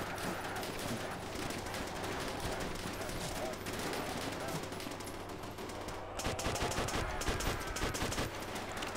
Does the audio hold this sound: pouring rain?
no